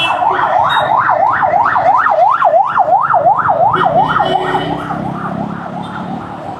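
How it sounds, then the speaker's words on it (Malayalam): Ambulance siren wailing loud and close in traffic, its pitch sweeping up and down in a fast, steady cycle before easing slightly as the vehicle passes, with a low road rumble beneath. "ആംബുലൻസ് വരുന്നത്"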